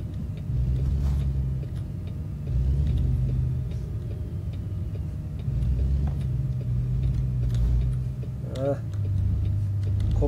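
Truck engine in American Truck Simulator, a steady low rumbling drone with slight rises and falls in load, continuous throughout at close range, with occasional faint ticking and a brief voice near the end.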